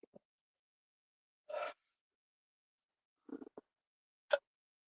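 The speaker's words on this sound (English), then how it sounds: "I got hiccups." A person hiccups several times, short, sharp bursts spaced a second or two apart in an otherwise silent room.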